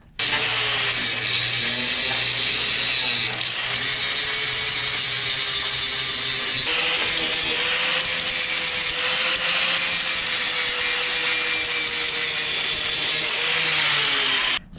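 An angle grinder works steadily on the welds of a wheelie bar, giving a loud, continuous, harsh metallic grind with a slight pitch drift, heard alone and close up for the whole stretch.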